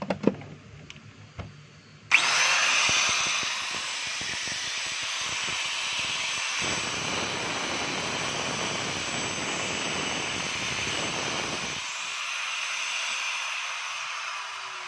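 A DeWalt DWE8300S 4-inch angle grinder, just fitted with new carbon brushes, spins up after a few faint clicks into a loud, steady high whine that holds for about ten seconds and then drops to a softer hum, up close, with no talking.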